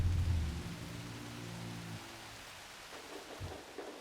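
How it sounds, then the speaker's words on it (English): A thunderstorm with rain in the video game Horizon Forbidden West: a low rumble of thunder fades out over steady rain hiss, followed by a couple of faint deep thuds, all quiet and distant with no voices. "it's gone all grey and stormy up here"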